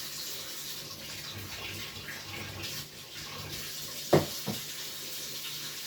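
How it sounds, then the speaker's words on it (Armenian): Hot water runs from a kitchen tap in a home cooking setting, a soft continuous flow with a couple of sharper splashes or clinks near the end, fairly quiet and with no talk. "հիմա ավելացնեմ մի քիչ տաք ջուր"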